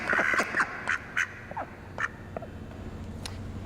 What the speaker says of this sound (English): You ready to quack for science?